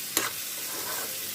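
Curry being stirred as it cooks in a pan, a continuous close sizzle with a sharp spoon scrape near the start and another at the end.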